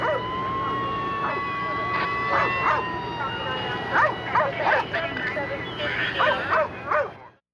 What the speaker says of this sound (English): A Prince George's County officer arrived with a police dog and started to hunt for McLean in the dark